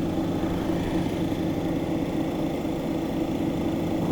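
A lapidary grinding wheel on 1200 grit runs with a steady, continuous motor hum and faint whirring while polishing a red Lake Superior agate cabochon, close by and unchanging throughout.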